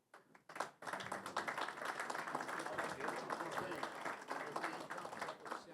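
Audience applause at a seminar, a sustained wash of many hands clapping in a hall after a brief quieter start, with speech mixed in.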